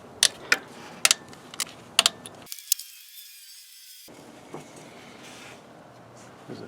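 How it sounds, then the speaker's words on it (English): Bolts taken off a 2007 Toyota Sienna thermostat housing, a string of sharp metallic ratchet clicks and taps up close, then a brief muffled stretch and a few quieter knocks, with no talking. "Let's take these bolts off of here."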